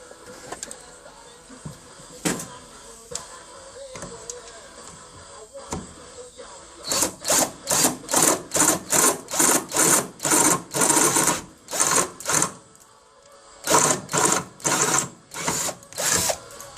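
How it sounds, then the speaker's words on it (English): Power drill drilling out bolts on a DRZ400SM motorcycle, coming in rapid bursts of whirring after a few quiet knocks, with short pauses between runs and loud, close, buzzing pulses. "I'll drill out those ones"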